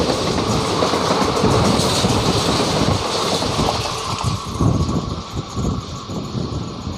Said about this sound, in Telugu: ట్రైన్ వెళ్ళిపోతుంది. సుల్తానాబాద్ నుంచి బయలుదేరుతుంది.